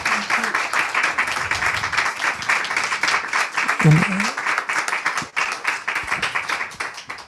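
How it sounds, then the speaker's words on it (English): An audience at a talk at ISV claps in a long, dense run of applause, sustained and even throughout, with a brief low voice sounding partway through. "In ISV, the claps are always longer."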